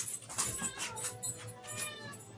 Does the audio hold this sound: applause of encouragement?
no